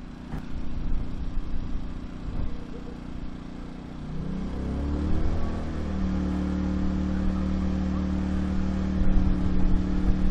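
A 2000 watt portable generator runs while powering an 80 amp LiFePO4 battery charger; a steady engine hum ramps up in pitch and loudness partway through, then settles into a stronger, even drone.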